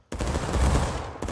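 A musket volley fires over a hill in the War of Rights game, a sudden loud crackling roar of many shots that merges into one rolling blast for about a second.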